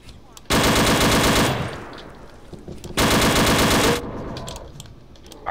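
Two loud bursts of rapid automatic gunfire in the World War II dinosaur shooter Dino D-Day, each lasting about a second, separated by quieter ambient game noise.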